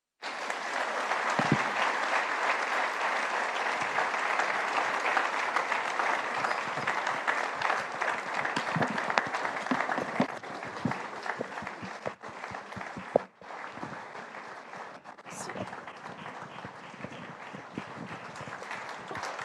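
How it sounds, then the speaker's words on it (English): Sustained audience applause fills the room after a keynote speech at a June 2025 special-edition event, steady dense clapping for nearly twenty seconds with a brief dip midway, no voices on top. "Another round of applause, please,"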